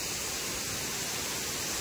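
Steady broadband roar of a waterfall at Phansache Pani in the dense forest near Hivale village, a continuous loud rush of falling water with no voices.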